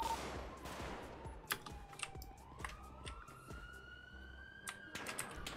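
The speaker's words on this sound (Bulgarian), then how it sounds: "С карабина стрелят по хеликоптер в момента." Carbine gunfire aimed at a helicopter in a video game, with sharp, rapid shots popping in irregular bursts over a rising siren-like whine, heard faintly and at some distance.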